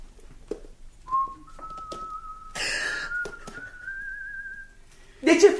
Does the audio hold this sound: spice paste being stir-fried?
no